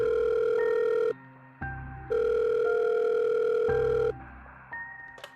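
Phone dialing for an emergency call: steady electronic tones in distinct segments with short gaps between them, loud and close, with no talking.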